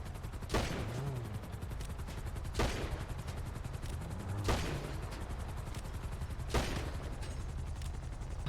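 Four loud gunshots ring out in the video game GTA V, each a sharp crack with a short echoing tail, spaced roughly two seconds apart over steady background noise, with no talking.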